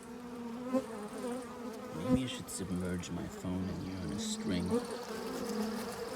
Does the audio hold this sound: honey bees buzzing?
yes